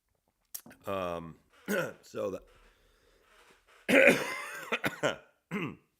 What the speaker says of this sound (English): it's trying to clear my throat